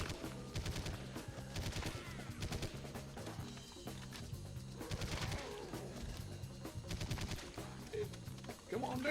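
Rapid, repeated gunfire from a video game blasts away at rats in quick rhythmic bursts. The shots stay loud and dense throughout, with faint game sounds underneath.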